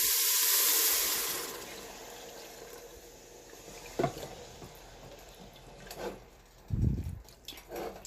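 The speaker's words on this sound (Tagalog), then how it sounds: "So, mga 2 liters ng tubig ang pwede nating mailagay dito." Water runs into a cooking pot for chicken lomi, a steady filling rush with a few clunks and splashes toward the end.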